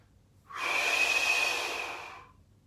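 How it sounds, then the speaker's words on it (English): A single steady inhalation during a Pilates exercise, a smooth airy breath lasting about two seconds, close and clear with no talking. "Breathe in as you come back."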